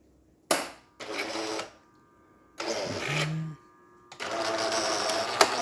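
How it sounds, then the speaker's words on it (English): A Jura Impressa F7 coffee machine runs its rinsing cycle in several distinct bursts of whirring pump and hissing water, separated by short pauses, with a brief low hum between them, all close and fairly loud. "nice rinsing cycle coming out of the machine"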